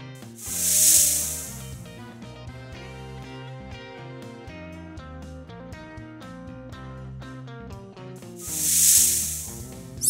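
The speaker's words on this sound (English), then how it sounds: "Snake." Two soft snake hisses, one near the start and one near the end, sound over a quiet sustained musical background.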